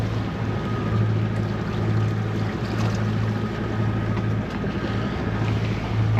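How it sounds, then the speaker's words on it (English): A sailboat's engine drones steadily on open bay water under a constant low hum, with wind buffeting the microphone throughout and no talking. "we put the engine on so we can get back"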